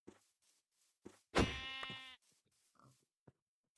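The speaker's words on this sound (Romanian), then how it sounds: "Mai erau oaie." A Minecraft sheep gives one clear, loud bleat in the middle, alone against near silence with a few faint clicks and game noises around it.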